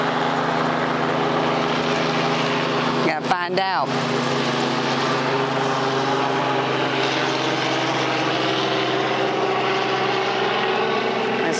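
A steady helicopter engine drone with whirring rotor hum fills the scene overhead at a campground, close and loud; someone speaks briefly partway through.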